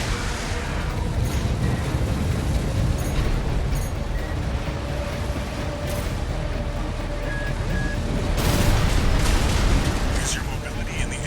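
Explosions from the mech game Armored Core VI: Fires of Rubicon: a continuous loud, rumbling barrage of booms and blasts across the whole stretch, swelling near the end, with talk over it.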